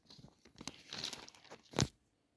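A plastic bag crinkles and rustles as a hydrangea cuttings tray with about 120 cells is pulled out of it, giving close, irregular crackles that end in a sharp louder crunch before quiet.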